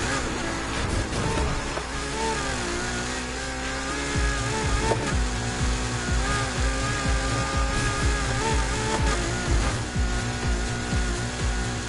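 A race car engine roars continuously in a Need for Speed Heat day race, its tone rising and falling with gear changes, loud and sustained throughout.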